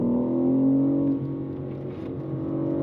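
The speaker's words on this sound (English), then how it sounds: "the speed of this 8-speed automatic through the gears is unbelievable" Engine of a 2025 BMW M4 CS with an 8-speed automatic, heard from inside as it pulls through the gears. Steady engine tone drops at a quick shift, then builds again, with no talk over it.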